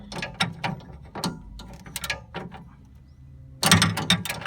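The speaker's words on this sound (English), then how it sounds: "We have our 11/16 socket." An 11/16 socket ratchet turns on the drain valve of a CNG high-pressure filter, giving a series of close, crisp ratcheting clicks in irregular bursts, ending with a quicker, louder flurry.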